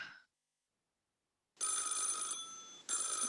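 A telephone bell rings as a sound effect in a radio play: two loud, close, sustained rings separated by a short pause, with no talking over them.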